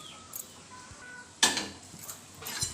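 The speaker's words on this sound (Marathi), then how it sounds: "गॅस पेटवलं, कढई ठेवली।" A kadhai is set down on a lit gas stove, a sharp metallic clank with rattling, followed by a couple of lighter knocks and scrapes against a quiet background.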